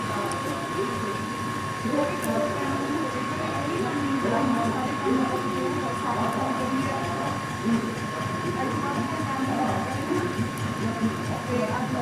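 A washing machine loaded with heavy winter jackets and coats runs with a continuous mechanical churning hum and rattle, with voices talking over it throughout.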